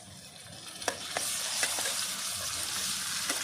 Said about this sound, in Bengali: পেঁয়াজ ভেজে নিয়েছি লাল লাল করে এবার আমি দিয়ে দেবো একসঙ্গে নিয়েছি কাঁচা লঙ্কা বাটা আদা বাটা রসুন বাটা